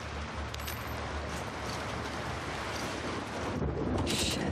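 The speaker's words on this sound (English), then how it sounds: "There's some serious thunder going on." Heavy thunder rolling in The Last of Us Part II during a stormy boat ride, a dense, continuous low rumble with rain-like hiss and a brighter crackling burst near the end.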